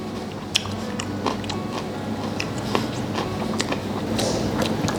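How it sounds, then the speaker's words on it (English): Someone chews a mouthful of vegan drunken noodles with crunchy vegetables, giving a run of close, sharp crunching bites at an irregular pace over a low steady background, without any speech. "You can hear the crunch of the veg."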